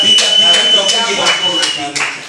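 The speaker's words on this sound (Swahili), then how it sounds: "Basi twende piga makofi piga." Several hand claps ring out in a loose rhythm, close and fairly loud, during a radio studio interview, with a high steady tone running underneath.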